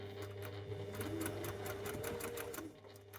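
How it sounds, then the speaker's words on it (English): A sewing machine stitching quilt block pieces together, a close, steady mechanical hum with a rapid rhythmic needle chatter running continuously, easing slightly at the end. "Hold on to that and then sew straight down."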